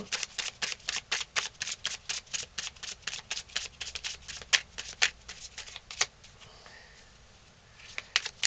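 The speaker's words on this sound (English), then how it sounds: "Okay, give me three cards." Tarot cards being shuffled by hand, a fast run of crisp riffling bursts in steady rhythm for about six seconds, then softer sliding and handling of the deck, close and clear with no talking.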